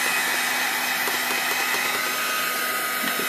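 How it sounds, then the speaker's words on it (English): A craft heat tool blows steadily over a wet Christmas card, a loud, even fan-driven whir with a constant hum throughout, without any speech. "I'm just going to heat it with the heat tool"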